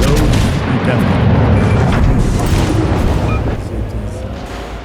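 Torpedo hits in World of Warships land as loud, dense booming explosions with heavy rumble that taper off toward the end, with a voice talking over them.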